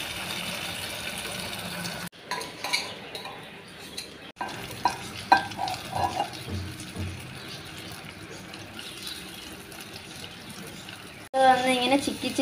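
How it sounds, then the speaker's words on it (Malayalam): Masala gravy poured onto a hot tava with coconut oil, a continuous frying sizzle with stirring and scraping of a utensil, interrupted by brief cuts, with a voice speaking over it. "ഇനി നമുക്ക് നമ്മൾ നേരത്തെ മിക്സ് ചെയ്ത് വെച്ച ആ ഗ്രേവി ഇങ്ങോട്ട് ഒഴിച്ചു കൊടുക്കാം."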